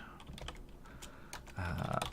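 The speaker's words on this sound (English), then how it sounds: "typing what Obelix is" Quick bursts of typing on a computer keyboard, irregular clusters of close key clicks with short pauses between them.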